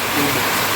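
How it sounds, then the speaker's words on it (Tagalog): Steady rain falls over barracks, a dense, even hiss filling the short stretch without pause or distinct drops. "Naabutan ako ng ulan dito sa barracks ni Rhea."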